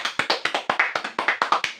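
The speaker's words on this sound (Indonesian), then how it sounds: "kita beri tepuk tangan untuk kelompok 1 yang sudah mempresentasikan hasil diskusinya ke depan kelas" Classroom applause for a student group after their chemistry presentation, a steady run of about fourteen sharp, close claps at an even rhythm with no talking.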